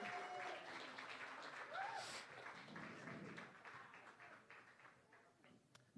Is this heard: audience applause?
yes